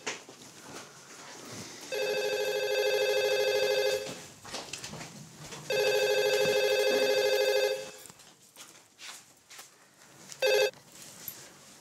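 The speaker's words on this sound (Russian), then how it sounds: "Ой, подождите, телефон звонит." A telephone bell rings in two long bursts of about two seconds each, clear and fairly close in a quiet room, followed by faint movement and a brief final chirp.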